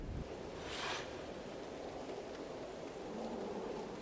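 Steady storm ambience from the video game Hades 2, a continuous wash of rain noise with a brief brighter burst near the start, constant and moderately loud with no voices.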